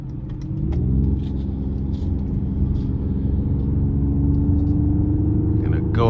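A 2024 Mercedes-AMG GLE 53 Coupe accelerates during a test drive, its engine a loud, steady low rumble heard from inside the cabin, climbing in pitch as the revs rise, with a voice briefly audible.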